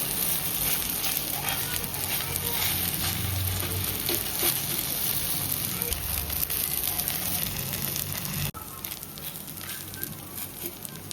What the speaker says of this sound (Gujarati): લોટી ગરમ થઈ ગઈ છે તો આપણે એની અંદર બેટર એડ કરીને આપણે ધીમે ધીમે પાથરવાનું છે